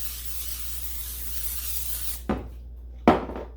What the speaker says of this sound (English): We're going to shoot it with some non-stick spray.